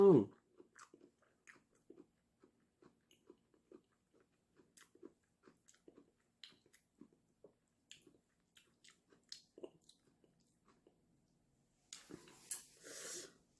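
Someone eats pumpkin dipped in soybean paste. Soft, close chewing and small wet bites repeat quietly for many seconds, and a louder rustling burst comes near the end.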